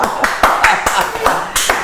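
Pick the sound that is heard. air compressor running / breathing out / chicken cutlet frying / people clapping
people clapping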